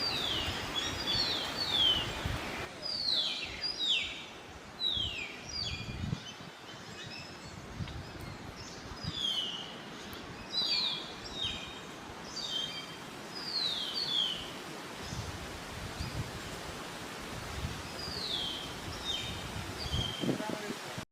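Repeated high chattering calls of a Malabar starling ring out in bursts against a rustling outdoor background in Parambikulam Tiger Reserve, Kerala, with occasional low thumps.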